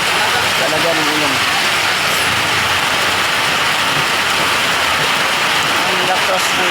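Heavy rain pours down steadily in a dense, loud wash, with faint voices now and then underneath.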